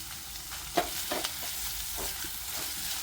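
Prawns in ginger, garlic and coriander paste sautéing in a pan: a soft, steady sizzle broken by several light stirring scrapes, with no talking.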